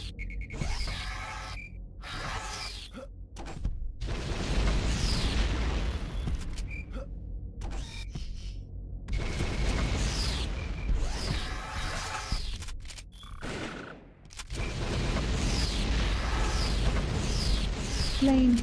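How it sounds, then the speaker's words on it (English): Repeated booming blasts from a Scorpion missile launcher in a video game, arriving in short bursts between gaps and layered over dense in-game noise, with some voice in places. "Scorpion missile launcher"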